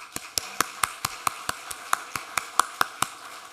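Sparse claps in a small group at a city State of the City address, a dozen sharp separate hand claps spaced irregularly over a few seconds, fairly close and dry, no voices.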